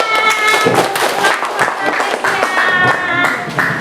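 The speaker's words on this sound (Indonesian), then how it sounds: "Oke, tepuk tangan" A classroom group claps for fellow students after their presentation, a short burst of brisk hand claps with voices talking over it throughout.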